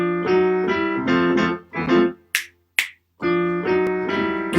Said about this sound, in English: This is called stride piano, when the hand is striding across the keyboard.